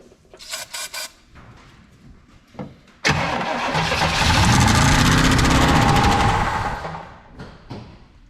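A 1966 Pontiac Catalina V8, parked for 20 years and running without a radiator, cranks a few times in short bursts, then fires and roars loudly for about four seconds with a rattly idle before cutting off.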